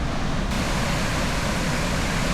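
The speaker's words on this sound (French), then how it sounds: "On a une jolie petite cascade qui est du coup juste devant le parc." Small waterfall just in front of the Plopsa Coo park, a dense, steady broadband rush of falling water, close and continuous with no pauses.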